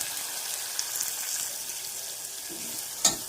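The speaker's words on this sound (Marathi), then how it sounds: "टोमॅटो आणि अर्धी कोथिंबीर, 2 मिनिटं चांगला मऊसूत होईपर्यंत टोमॅटो आपण फ्राय करणार आहे।" Tomatoes with cilantro frying in a pan with browned garlic give a soft, steady sizzle, faint and even throughout, with a brief clatter near the end, with no talking.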